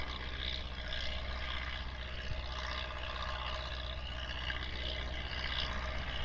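An MTZ 82.1 tractor engine revs hard in the field, a loud continuous roaring drone that holds steady with no pauses and no voices.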